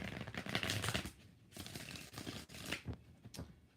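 Tarot cards being shuffled close by, quiet and faint, with uneven riffling bursts and soft card slaps.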